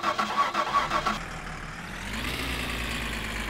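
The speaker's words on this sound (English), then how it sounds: "All right, engine is on, parking brake is off, and let us depart" A van in the video game My Summer Car cranks in a rapid, rhythmic churn for about a second, then catches and settles into a steady, low diesel idle that hums on.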